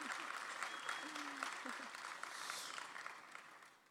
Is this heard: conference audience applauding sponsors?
yes